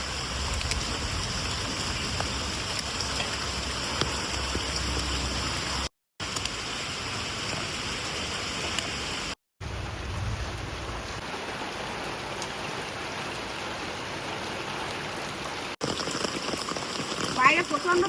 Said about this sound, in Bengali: বাইরে প্রচন্ড বৃষ্টি হচ্ছে